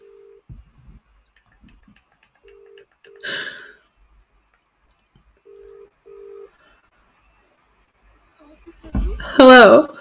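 A telephone places a call, giving a few short electronic beeps, some in quick pairs, separated by silence. A voice speaks briefly at the end.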